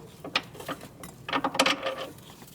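A ratchet works loose a transmission mount bolt on a 2016-2019 Chevrolet Cruze 1.4L, rapid clicking bursts in uneven clusters with small metallic clinks, close and alone.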